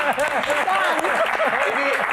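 Audience applause at a live Q&A with Sule, a steady wash of clapping that is partly masked by a talking voice riding on top.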